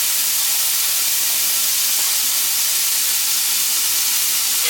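Chopped bacon frying in a hot pan, a loud, even, continuous sizzle with a steady hiss and no breaks.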